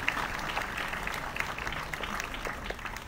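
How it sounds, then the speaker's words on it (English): Dense, continuous applause from a lecture audience at a Q&A session, steady and fairly close for the full stretch, with no talking over it. "can I have your round of applause"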